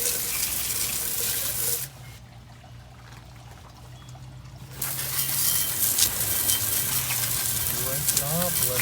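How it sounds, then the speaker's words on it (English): Running water rinses grease and grime off an oily mechanical part, giving a steady hissing pour that stops for a few seconds mid-clip and then resumes, close and fairly loud. "Give it a little rinse there."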